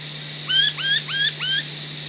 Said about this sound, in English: When you hear a bird chirping like that